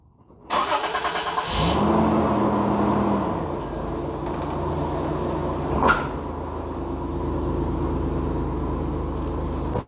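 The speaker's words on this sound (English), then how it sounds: "I'm going to test that as well with a quick run over from my Toyota 4Runner." A Toyota 4Runner rolls over a Vont Blaze emergency flashlight, its engine rumbling steadily at close range with a sharp thud partway through as the tire crosses the light.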